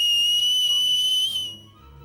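A piercing, sustained high whistle blown as loud as possible in an underground cave, ringing steadily for over a second before cutting off abruptly into near silence.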